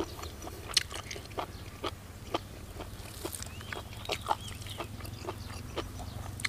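Close chewing of a crunchy, chewy spicy giant-octopus salad made with fermented fish sauce, with irregular sharp crunch bites and wet mouth sounds at close range, no talking.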